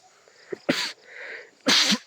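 A person lets out two loud, harsh bursts roughly a second apart, close to the microphone, with breathy noise between them, heard outdoors at a wide bay.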